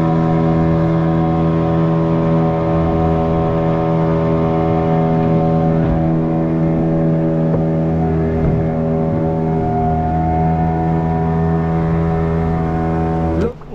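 Motorboat ride on the sea at Devbag, Malvan: a steady, loud engine drone with strong harmonic hum runs throughout, holding even with a slight pitch rise near the end before cutting off abruptly.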